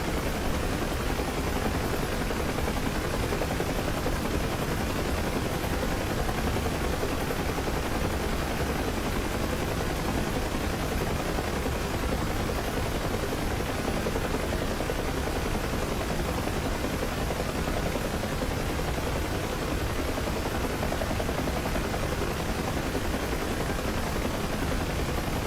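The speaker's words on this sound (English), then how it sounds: "Trying to get the helicopter properly configured." A Huey helicopter in a flight simulator, a steady loud rotor and turbine drone with constant dense thumping that never lets up.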